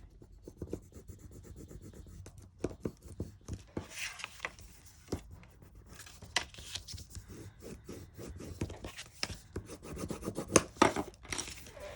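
Paper for a junk journal pocket made from an optometrist receipt holder is burnished by hand, with close, repeated dry rubbing and scraping strokes that come in irregular bursts over several seconds.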